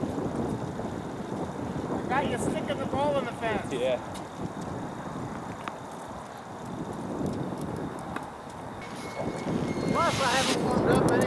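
Cold wind buffets the microphone outdoors on a golf course, a constant rough rumble and gusting roar, while people talk over it now and then.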